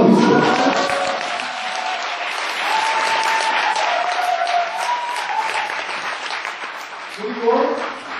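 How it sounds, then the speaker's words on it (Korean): Guests at a beer party for ballot box guards give a lively round of clapping that runs for several seconds, with voices rising over the applause near the end. "박수 한번 주시죠."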